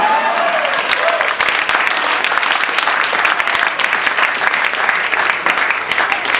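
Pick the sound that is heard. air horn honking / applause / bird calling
applause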